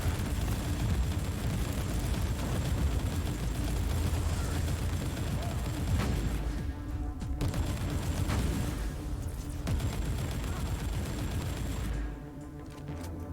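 Sustained video-game gunfire rolls on in a thick, rumbling wash with dense overlapping shots, easing briefly a few times before resuming, loud throughout with no talk.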